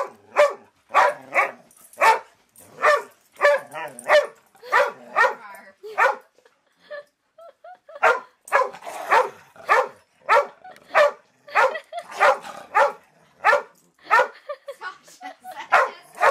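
A dog barks repeatedly in a steady, rhythmic series of loud, close yips, with a brief pause midway before the barking resumes.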